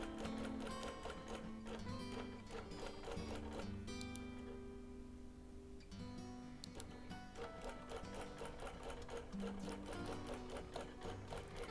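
Sewing machine basting quilt binding on a linen-blend sampler quilt, running in a steady rapid stitching rhythm close up, with a brief slowdown midway before resuming.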